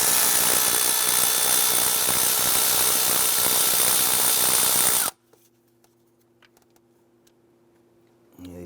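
A power tool loosens the 8mm bolts on a 2011-2018 Ram intake, whirring loud and continuous for about five seconds, then stopping abruptly into near silence with faint ticks and a brief restart at the end.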